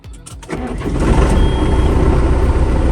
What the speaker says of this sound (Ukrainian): це наявність повноцінного зумера